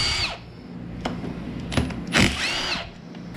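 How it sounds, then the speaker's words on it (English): A power tool removes bolts from the shift cap of a T-5 manual transmission, with several short whirring bursts and clicks close by, separated by brief pauses. "I pull the bolts out of the shift cap"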